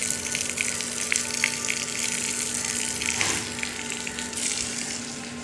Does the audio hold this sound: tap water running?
yes